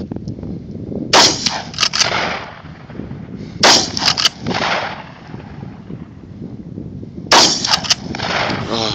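Shotgun firing buckshot at long range outdoors, three loud sharp blasts spaced a few seconds apart, each followed by a rolling echo.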